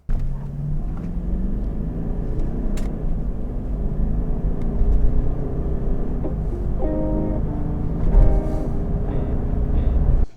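A Toyota Land Cruiser 200 accelerates from inside the cabin: a steady low engine drone and road rumble swell and climb in pitch, with a brief surge near the end, alone without talk.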